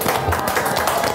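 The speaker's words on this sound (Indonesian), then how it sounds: "Jadi kita tepuk tangan dulu untuk 2 bintang tamu yang sudah" Studio audience clapping for two guest stars on a podcast set, a dense, steady patter of hands close by, brief and without pauses, with faint voices mixed in.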